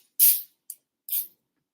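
An aerosol spray can hisses onto a dairy-free, plant-based pizza in three short bursts, the first and last longer and the middle one a quick puff, close and alone in a quiet room.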